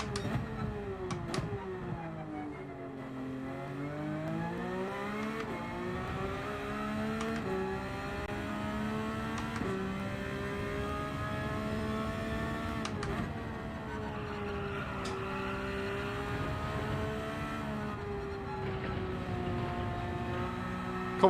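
A race car engine in Gran Turismo 7, running at Autopolis, drones loud and steady for the whole stretch, its pitch dipping and climbing again through gear changes and braking and acceleration, with no talk over it.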